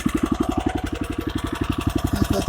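A rotary tiller's engine idles nearby with a rapid, even chugging pulse, loud and alone, steady throughout.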